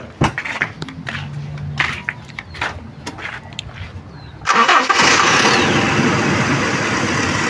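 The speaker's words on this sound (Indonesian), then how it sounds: "udah terpasang, kita nyalain mobilnya lagi" A Toyota Kijang Kapsul car engine is started after its emission control parts are refitted. A few clicks and thumps come first, then the engine catches abruptly and settles into a loud, steady idle.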